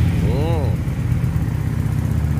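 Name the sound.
Benda Napoleon Bob 250 motorcycle engine revving, stock exhaust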